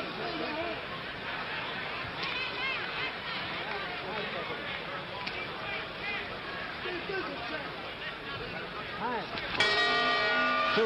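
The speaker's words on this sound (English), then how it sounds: "Two rounds gone, and that time they hear the bell." A boxing ring bell sounds near the end to close the second round of a 1964 world heavyweight title fight, cutting in loud over steady crowd hubbub and a commentator talking throughout.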